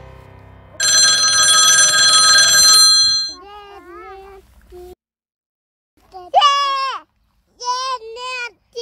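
A toy telephone rings loudly with a bright, continuous electronic trill for about two seconds, then children's voices chatter and call out in short bursts in a quiet indoor setting.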